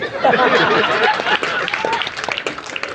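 Crowd at a Hindi poetry gathering (kavi sammelan) in Chaibasa breaks into loud, sustained applause mixed with laughter and chatter.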